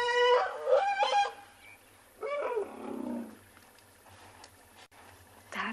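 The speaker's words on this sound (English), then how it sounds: "That is the sound of a young calf being weaned and being denied milk from mum." A young African buffalo calf being weaned calls outdoors with a couple of bleating, nasal cries, then a longer rasping bawl, followed by quieter ambient noise.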